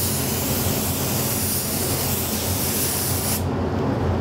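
A spray gun lays a coat of metallic glitter finish onto a board in one steady, loud hiss that runs without a break and cuts off just before the end, leaving quieter room tone.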